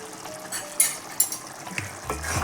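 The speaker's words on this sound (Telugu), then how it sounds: "ఒకసారి కలిపేసుకుందాం." Mutton curry is stirred in a pot with a spoon, producing a few clattering scrapes and a low bubbling sizzle over a short stretch, with no talk.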